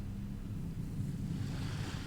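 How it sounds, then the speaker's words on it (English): Rippling water and small waves on a quiet channel, a continuous low wash with a soft rush of wind that grows slightly toward the end, steady and unbroken with no voices. "The water's rippling, so I wasn't paying attention."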